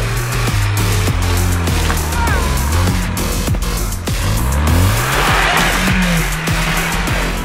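Off-road car accelerating hard on a dirt track, engine revving loudly and rising in pitch with brief tire squeal and skidding, close and continuous with no talk.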